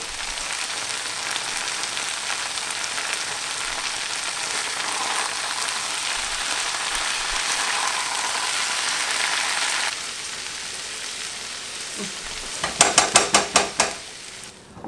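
Aromatics added to a shepherd's pie filling sizzle steadily in a pan, a loud bright hiss lasting several seconds. The sizzle then quiets, and a string of quick, rhythmic spoon clinks and scrapes against the pan follows.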